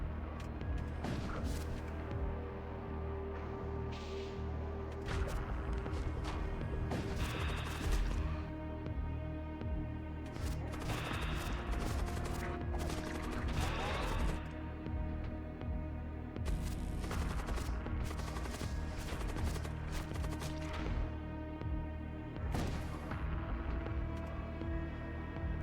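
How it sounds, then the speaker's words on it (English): Thunder cannon shots fire in the space combat game Void War aboard an Excrucior ship, a dense run of loud booming blasts and crashes that overlap continuously over a steady rumbling bed. "I think I can get 2 more thunder cannon shots before he gets out."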